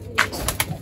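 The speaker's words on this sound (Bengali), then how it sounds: "ওই দেখো পায়রা দেখাই তোমাদেরকে ওই দেখো এটা জানে কি পায়রা বলে এটাকে লক্কা" Lakka fantail pigeons cooing on a rooftop, a few short soft coos close by against quiet background.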